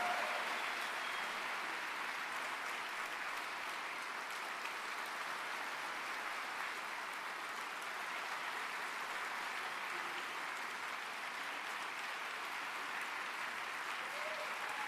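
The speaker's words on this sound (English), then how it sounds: "give one more round of applause for all of our panelists for being here today" An audience at a gun violence prevention town hall in Minnesota applauding the panelists, a steady sustained clapping at moderate distance lasting the whole stretch without letting up.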